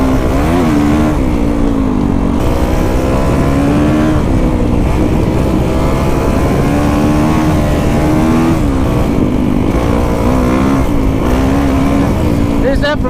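Kawasaki KX450X dirt bike fitted with an FMF exhaust, ridden at high speed through open desert: a loud, steady engine drone with rising and falling revs, under wind noise.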